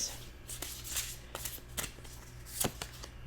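Tarot oracle cards riffle and snap in a close, quiet series of crisp shuffles, several short bursts spaced irregularly across a few seconds with no talking.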